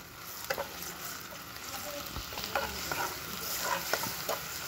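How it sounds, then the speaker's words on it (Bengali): Garlic paste sizzling and frying in hot oil in a pan, with a steady close crackle and a few stirring scrapes as it cooks, no voices over it. "এখন দিয়ে দেবো রসুন বাটা"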